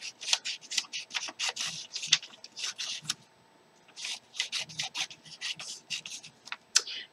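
Handmade cards being cut and handled at close range, a rapid series of crisp papery swishes and rubs in bursts, with a brief pause midway and no talking.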